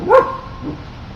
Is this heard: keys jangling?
no